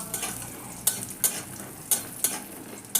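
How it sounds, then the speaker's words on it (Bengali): Biuli dal bori, lentil dumplings, fry in a pan with a soft sizzle, broken by about six sharp scraping stirs spaced roughly half a second apart, close and fairly quiet. "এবার আমি কিছু বড়ি ভেজে নেব লাল লাল করে"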